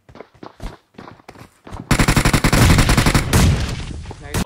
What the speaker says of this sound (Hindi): चल तेज फायरिंग कर